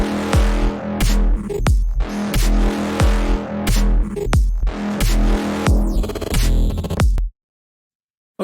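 A synth bass drop built from a Moog Sub 37 emulation pounds out a loud, steady quarter-note sub pulse with layered tones, ending in a quick stuttering roll before cutting to silence.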